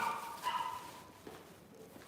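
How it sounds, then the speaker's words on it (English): A dog pushes and rattles at an indoor doorknob in a living room, giving a few scraping, knocking bursts at close range with some whimpering dog sounds mixed in. "you hear that noise? That's the dog pushing the doorknob."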